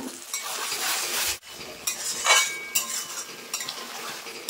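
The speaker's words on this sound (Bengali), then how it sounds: "দই দেওয়ার পরে আমি একটু কষিয়ে নিয়েছি, আর একটু কষিয়ে নেব" Whisked yogurt and masala stirred in a pan over a low flame for Bengali fish kalia. There is broadband sizzling with scraping spoon strokes and clinks against the pan, and a brief break part way through.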